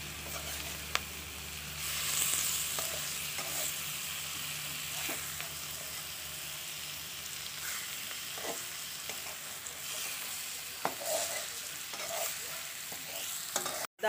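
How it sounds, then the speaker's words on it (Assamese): Pieces of fish sizzle steadily as they fry with spices in a pan for a fish curry with vegetables, a close, continuous crackle with occasional stirring clicks and no talking. "এতিয়া মই মাছ দিম অকণমান মছলাৰ লগত ভাজিম"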